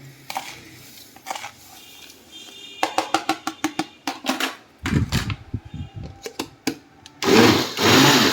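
An electric mixer beating cake batter whirs in bursts, starting and stopping repeatedly with clattering and scraping in between, ending in a sustained loud run.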